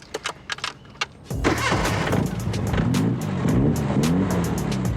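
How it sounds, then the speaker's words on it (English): A 1946 Jaguar classic car engine catches after a few light clicks, then settles into a loud, close, throaty idle with rising revs and a raspy, racing-car edge. "That sounds like a racing car."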